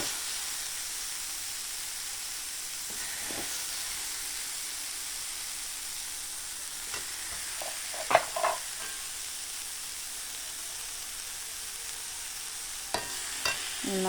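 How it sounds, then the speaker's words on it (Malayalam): Tomato thoran being stirred in a pan with the heat switched off: a steady soft sizzle and hiss runs throughout, with a few close spoon scrapes around the middle and again near the end. "തീ ഓഫ് ചെയ്താലും ഒന്നും കൂടി അടി ചേർത്തൊന്ന് ഇളക്കിയിടണം കേട്ടോ"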